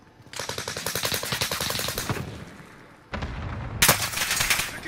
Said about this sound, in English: Shots over here!